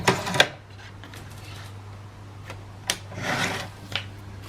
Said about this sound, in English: So now I'm going to cut it off there.